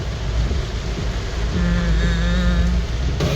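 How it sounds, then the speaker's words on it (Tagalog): Heavy typhoon rain pours down in a city, a dense continuous hiss loud and close throughout, with a faint tonal hum rising briefly near the middle. "Kusog kaya ang ulan."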